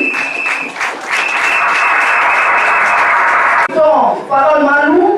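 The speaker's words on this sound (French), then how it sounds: "On peut applaudir pour lui." Wedding guests at a religious ceremony break into steady, close applause that fills about three and a half seconds, then fades as voices speak over the tail end.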